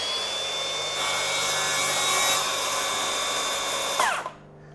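A Milwaukee 6-1/2 inch cordless plunge track saw runs at a steady high-pitched whine while cutting through hardwood, then its blade winds down sharply at the end. It is close and loud, with no talking.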